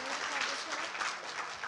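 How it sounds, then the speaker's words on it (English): Applause from the crowd at the Brownsville Hurricane Awareness Fair, clapping for the winners: a steady, dense wash of hands lasting under two seconds, with voices mixed in. "Let's all clap for our winners."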